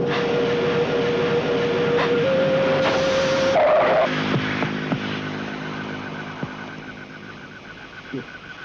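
A car skids with its tyre failing, a sustained tonal squeal rising in pitch before cutting out, leaving engine rumble and road noise that fade over several seconds.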